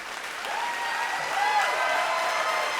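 Audience applauding retired federal and state judges at a live event in Washington, DC: steady, dense clapping from a sizable crowd, fairly close and sustained throughout with no speech over it.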